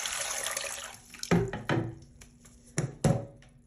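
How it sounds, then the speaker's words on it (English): Water from a watering can splashes into a well in a few distinct bursts with short pauses between them, close and fairly clear against a quiet background. "I put the water in the well."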